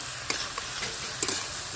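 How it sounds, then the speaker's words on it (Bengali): Kharkol leaf paste sizzling in a pan while a spoon stirs it, with a steady frying hiss broken by a few distinct scraping strokes. "ভালো করে নেড়ে চেড়ে দেবো"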